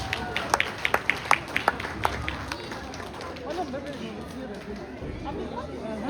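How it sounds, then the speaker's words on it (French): Audience applause at a Congolese community celebration in Sherbrooke, with a few sharp claps near the start, then a crowd murmur and chatter that grows and carries on. "Mon Dieu, est-ce qu'on peut applaudir,"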